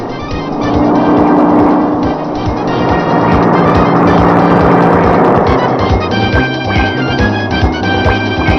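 Taxi car driving along, a loud continuous engine drone with road rumble and some rattling, steady throughout with no talk.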